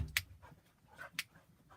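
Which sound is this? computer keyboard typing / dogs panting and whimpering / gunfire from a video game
dogs panting and whimpering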